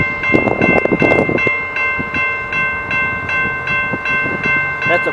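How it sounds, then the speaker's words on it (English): A four-car Rail Runner commuter train passes close by, its horn sounding in repeated blasts over the rumble and clatter of wheels on rail. "That's the four car train like the other one was."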